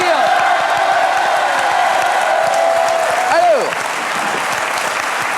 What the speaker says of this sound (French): Lio est avec nous ce soir et vous pouvez l'applaudir.